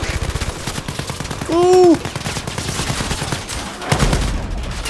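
Bursts of game gunfire in the Blood & Truth virtual reality shooter on PlayStation VR, rapid shots running through the clip with a short voice exclamation partway in.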